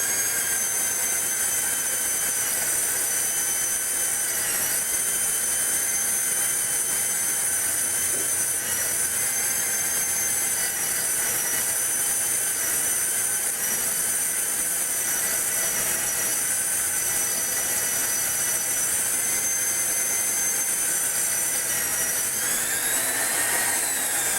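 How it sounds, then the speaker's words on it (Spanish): A Hougen magnetic drill boring through metal: a steady, loud, continuous high whine and grinding roar that holds without pause for the whole stretch, close by. "Vamos a iniciar la perforación."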